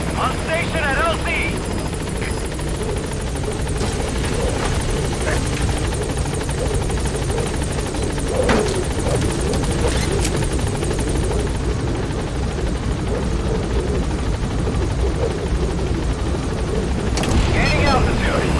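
A support helicopter lifting off in Metal Gear Solid V on PC, a loud, dense rotor roar and engine whine sustained throughout, with faint voices under it.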